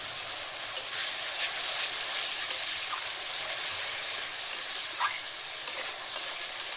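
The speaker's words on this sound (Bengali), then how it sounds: "বন্ধুরা সামান্য জল দিয়ে আমি কষাই নিব।" Spice masala with salt, sugar and a splash of water being stir-fried in a pan: a constant steamy hiss and sizzle, punctuated by light, sharp scrapes of the spatula at irregular intervals.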